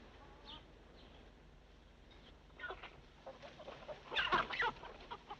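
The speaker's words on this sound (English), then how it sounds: "It's always good to have a few chickens on a reception committee" Several chickens cluck close by, with scattered short calls that grow louder and busier toward the end.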